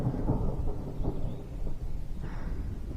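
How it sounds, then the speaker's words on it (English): Low thunder rumbling continuously from a storm over hills along a hiking trail in Pennsylvania, a deep, heavy roll at moderate loudness with faint rain underneath and no voices. "The thunder's all kind of up over this direction."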